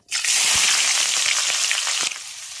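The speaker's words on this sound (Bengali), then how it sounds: "তেল গরম হয়ে গেছে এবার তেলের মধ্যে আগে থেকে কুচিয়ে রাখা পেঁয়াজটা দিয়ে দিচ্ছি" Chopped onion tipped into hot oil, setting off a sudden loud, steady sizzle that holds for about two seconds before easing slightly, with a few soft knocks from the pan underneath.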